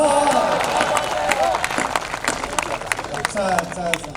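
Applause from a crowd at a Hindi comedy poetry gathering, a dense patter of clapping with cheering and murmuring voices mixed in, steady throughout.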